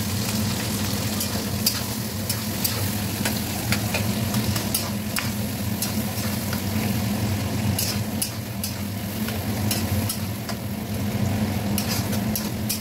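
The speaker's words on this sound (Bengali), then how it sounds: "এবার দেখো পেঁয়াজটা দিয়ে দিচ্ছে, ডুমো ডুমো করে কাটা পেঁয়াজটা বড় বড় করে।" Large-diced chopped onions frying with garlic and ginger in a pan for a Bengali dish, a dense continuous sizzle with constant stirring scrapes and small clinks, close and fairly loud, no talk.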